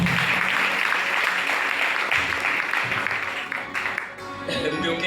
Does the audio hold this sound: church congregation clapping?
yes